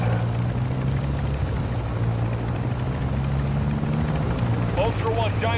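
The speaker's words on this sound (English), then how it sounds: "Oh look, there's a helicopter." A helicopter in Call of Duty: Modern Warfare II gives off a steady low rotor drone under game audio, with a brief voice near the end.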